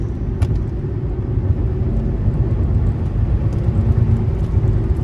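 A deep, rumbling 2004 Mercedes-Benz S600 engine surges under hard kickdown acceleration, heard from inside the car with low road roar and steady droning power.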